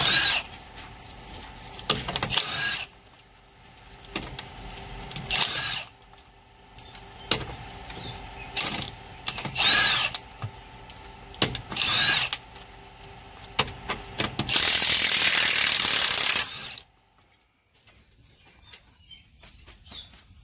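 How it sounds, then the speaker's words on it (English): A 1-inch impact wrench rips lug nuts off, its loud hammering bursts repeating in short bursts with a long sustained run near the end, separated by quieter gaps with faint background sounds. "I was going to come over and watch your 1-inch rip those lug nuts off."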